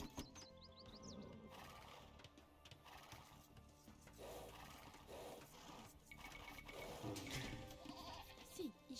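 Sheep bleat in Age of Empires II over a busy mix of game sounds, including horse-like whinnies and hooves, with no talk during the stretch.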